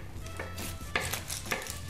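A knife slices a red onion into rings on a board, giving several soft, close chopping knocks at an uneven pace, with faint kitchen clatter of dishes in the background.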